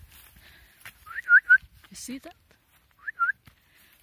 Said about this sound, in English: Some birds here.